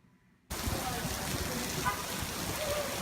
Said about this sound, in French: il pleut, c'est pas genre la petite pluie quoi, il pleut